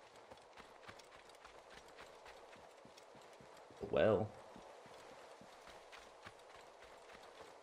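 Horse hooves in Assassin's Creed Origins clop in a quick, regular gait at low volume, with a brief spoken word breaking in midway.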